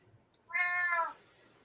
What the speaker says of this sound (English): Yeah, Kitty agrees